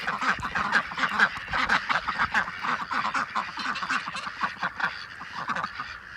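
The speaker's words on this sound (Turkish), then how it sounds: "Evet arkadaşlar görüyorsunuz. Ördeklerimiz" A flock of ducks and young goslings quacks and honks continuously and loudly at close range, a dense overlapping chatter with no pauses.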